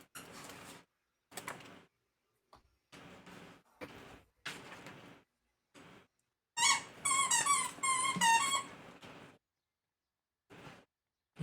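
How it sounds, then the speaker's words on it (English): A weird, high-pitched squeaking rises in a wavering, chirping run of about two seconds between sparse, quieter knocks and shuffles in an otherwise quiet room. "You hear a weird squeaking noise"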